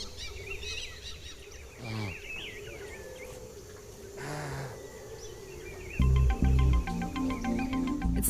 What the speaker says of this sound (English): You can hear the dolphins rising and blowing, and the birds are just everywhere.